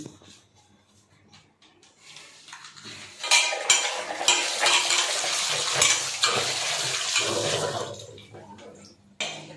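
Chicken rubbed with turmeric being washed in water for a kurma, with splashing and sloshing that starts after a quiet opening and builds to a sustained rush, mixed with knocks against a bowl.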